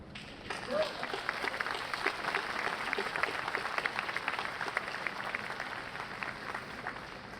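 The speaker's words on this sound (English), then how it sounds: "please join me again in the final round of applause for all of our graduate students" Applause from the audience at a chemistry and biochemistry commencement ceremony, a dense, sustained clapping of many hands that swells quickly and holds steady throughout.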